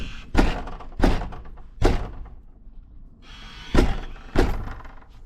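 A stuck rental-apartment door being shoved hard with a shoulder, giving five heavy, booming thuds spaced about a second apart, close and loud, with a rattling strain in between.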